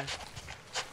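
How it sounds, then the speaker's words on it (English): A dog in the horror survival game Darkwood pants and whimpers in a brief, soft burst of quick breaths. "Oh, that's a doggy."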